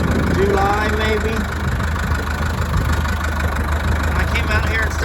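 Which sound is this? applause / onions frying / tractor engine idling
tractor engine idling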